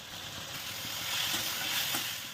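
Yellow pumpkin pieces sauté in oil with kuzhambu powder in a South Indian kitchen, giving a soft, steady sizzle and hiss at low volume with no voices.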